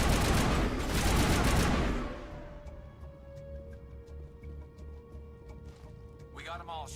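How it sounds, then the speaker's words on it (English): Rapid gunfire bursts from the Mass Effect video game fill the first two seconds, loud and dense, then give way to a low hum with faint tonal game sounds and a brief voice near the end. "I'm shooting now"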